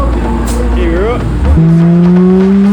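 Pro drift car engine with a misfire, on a street drive: a loud, close, rough engine drone with uneven pitch that dips and then settles into a steady buzzing tone, with a voice over it.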